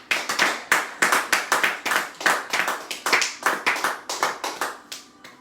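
A church congregation claps together in acclamation of the Lord, loud rhythmic group claps in regular bursts roughly every third of a second, close and steady throughout.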